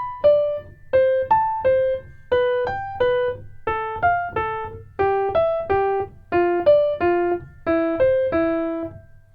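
A guitar lick alternates between the lower and higher notes of each interval, with about a dozen evenly spaced plucked note pairs played alone at a steady, moderate pace.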